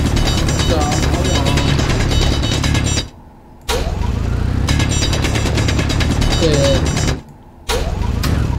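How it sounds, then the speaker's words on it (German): Continuous grinding engine-like drilling in Space Engineers multiplayer, loud and steady, cutting out briefly twice before resuming. "Du bist heute ziemlich am Bohren"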